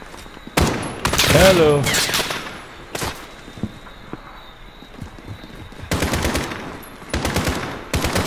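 Video game gunfire in Call of Duty Modern Warfare comes as loud, rapid automatic bursts, a long rattling volley near the start and more clustered bursts later, with brief voices between the shots.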